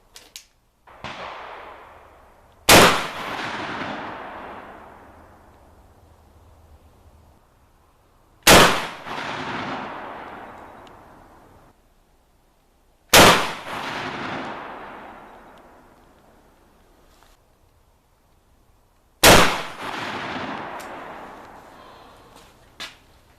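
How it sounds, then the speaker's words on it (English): A cut-down, sandblasted, Duracoted shotgun fires four loud, sharp blasts at steel plate targets 50 meters away, each spaced several seconds apart and followed by a decaying ring-out. "throw another round in the chamber, see where it hits"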